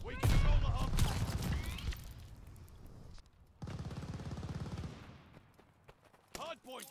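Call of Duty Vanguard multiplayer gunfire during a hardpoint match, rapid automatic bursts up close, a lull, then another sustained stretch of firing, with a voice speaking at the start and end.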